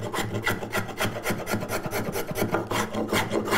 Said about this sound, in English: So set one side of your spoke shave hard.